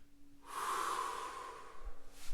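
A single long breath during a seated yoga stretch, a soft airy rush that swells, holds, and fades, close to the microphone, followed by a brief quieter breath near the end.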